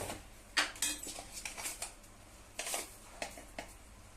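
A utensil stirs tomato sauce with salt in a pan for pasta, making repeated close metallic scrapes and clinks in irregular bursts against a quiet background.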